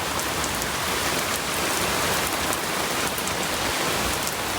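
Heavy rain pours steadily outdoors on a dark midday, a dense, constant hiss of drops drumming on surfaces close by, with no voices and no thunder.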